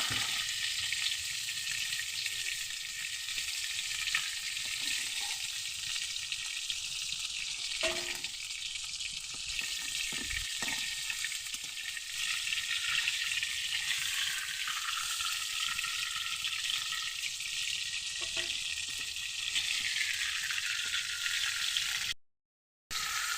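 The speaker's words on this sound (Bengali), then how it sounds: "ভেজে নিই আস্তে আস্তে তো দেখো আমার মাছটা বেশ ভাজা হয়ে গেছে" Steady, loud sizzling of fish frying in hot oil continues throughout, with a few faint clinks and stirring sounds, ending in a brief cut.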